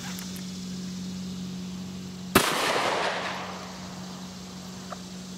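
A single 9mm pistol shot fired with Federal HST ammunition, a sharp loud crack followed by a short booming decay over a steady low hum, with nothing else around it.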